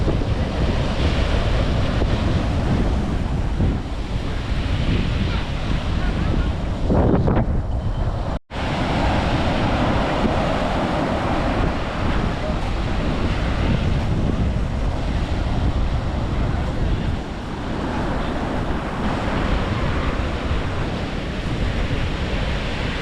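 Strong wind at an Indian seashore roars across the microphone over crashing surf, a loud, constant rumble with broad wave swells and no voices.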